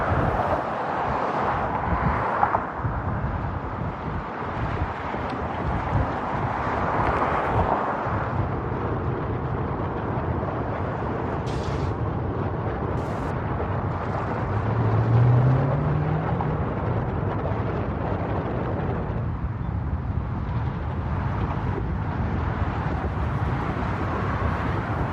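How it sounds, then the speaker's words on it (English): Steady roaring wind buffets the microphone on a bicycle crossing of the Golden Gate Bridge while traffic rumbles continuously in the background, loud and unbroken throughout. "The crossing is both windy and noisy."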